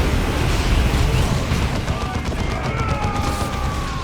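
A frag grenade thrown and detonating amid battle in the Dawn of War II game, set in a dense, continuous roar of gunfire and blasts that holds steady throughout, with a faint voice underneath.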